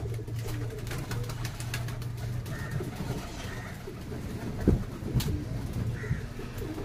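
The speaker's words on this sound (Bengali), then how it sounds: "সব পায়রাগুলো দিল্লি পায়রা।" Delhi pigeons in a breeding loft coo softly in repeated low throbbing calls over a steady background hum, with a few faint chirps and a brief sharp knock near the end.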